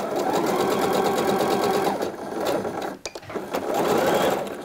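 Domestic sewing machine stitching a coat side seam with backstitches, a loud rapid mechanical whirr that runs, pauses briefly for the reverse stitch, then resumes forward at full speed.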